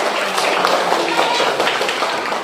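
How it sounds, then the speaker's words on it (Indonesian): A class of children claps their hands together at the end of a song in a classroom, a brief, dense burst of clapping close by. "kita tepuk tangan untuk diri kita"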